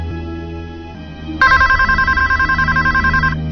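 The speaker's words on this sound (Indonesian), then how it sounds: "Aku berjalan mencari telepon rumah yang terus saja berbunyi itu." A house telephone rings in a radio drama scene, a steady electronic double-trill repeating loudly for about two seconds after a quieter tonal background with a low hum.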